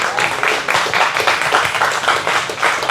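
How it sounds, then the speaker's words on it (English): Audience at a real estate investor meetup clapping, a close, loud and lively burst of many hands with a few individual claps standing out, sustained for a few seconds without speech. "Give you a big round of applause."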